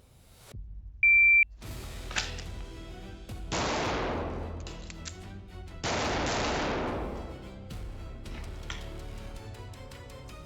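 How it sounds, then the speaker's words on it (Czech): Handgun shots fired during a shooting drill that includes a forced reload: several sharp, loud reports spaced out over the clip, with a short beep before the first shots and the ringing of each shot carrying between them. "Začátek je stejný, ale potom vynuceném přebití dáme 2 výstřely."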